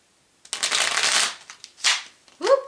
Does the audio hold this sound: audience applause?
no